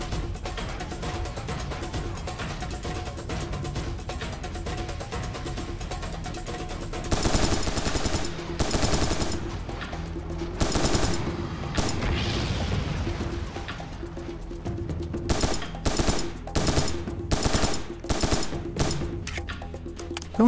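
Rapid machine-gun fire and gunshots in the first-person shooter Serious Sam 3, a dense continuous barrage with louder bursts and crashing impacts that swell midway and toward the end.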